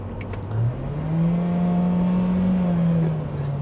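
An MG5 car engine at full throttle gives a steady, droning rev that climbs and holds, heard from inside the car with no talking.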